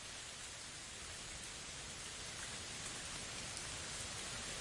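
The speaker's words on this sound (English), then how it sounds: "Let the serene rainfall free you from any stressful thoughts." Steady rainfall with a soft, even hiss throughout, faint and uniform with no talk over it.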